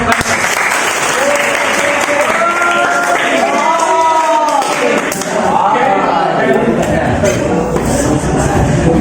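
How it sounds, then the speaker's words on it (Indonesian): A class of students claps hands in a classroom, loud and close, with continuous dense clapping mixed with children's voices and shouts throughout. "Oke, tepuk tangan."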